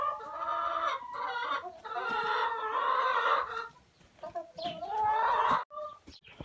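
Several hens in a barn cluck and squawk loudly and close by in overlapping bursts, with brief pauses between calls.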